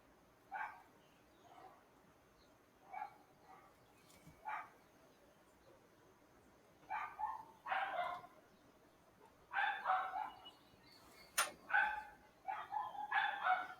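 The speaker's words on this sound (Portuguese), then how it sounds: "Tá só dois latindo, na verdade" Two dogs bark back and forth in short bursts, scattered single barks early then denser clustered barking later, moderately distant, with no talk over them.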